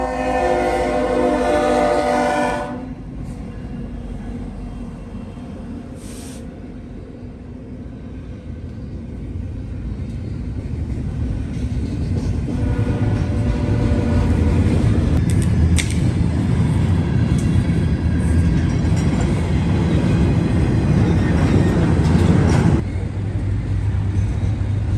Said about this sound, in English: .238 rolls eastbound into London on a cold night